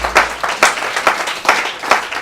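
A church congregation applauding together during a French-language sermon, steady rhythmic clapping in repeated bursts from a crowd, fairly loud and close, with no voices over it.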